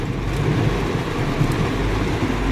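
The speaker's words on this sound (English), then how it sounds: "Ooh, you hear that thunder?" A deep, rumbling roar of thunder, heard from inside a car, rolls continuously, heavy in the low end, with steady rain-like noise over it and no voices.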